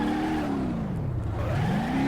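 A crashed, damaged car in BeamNG.drive revs hard and continuously, its engine pitch dipping and climbing again as the throttle is pressed, loud and close throughout.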